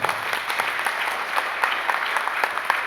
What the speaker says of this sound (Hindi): एक बार पुनः जोरदार तालियां हो।